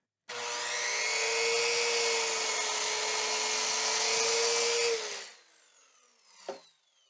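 A Harbor Freight Warrior 7-1/4 inch miter saw spins up and bites through a 1x12 board, a loud steady whining cut lasting about five seconds, then the motor winds down with a short knock at the end.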